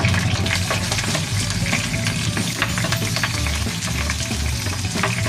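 Garlic, about six cloves, sizzles loudly in oil in a pan, a dense, continuous frying crackle with stirring and no talk.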